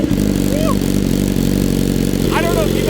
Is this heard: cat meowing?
no